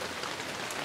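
Steady, dense rain falls outdoors on a vegetable garden, a continuous close hiss of drops with no other sounds.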